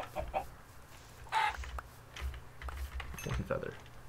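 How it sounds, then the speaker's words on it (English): Chicken clucking in the video game Minecraft, several short clucks spread across a few seconds at moderate level, with background game ambience between calls. "Chickens. I would love chickens."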